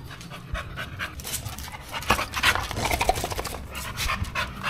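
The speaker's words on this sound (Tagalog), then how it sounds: "I have two dogs here. I'm gonna show you." Two dogs pant rapidly and unevenly at close range, with quick breathy bursts that grow louder midway, and no talking.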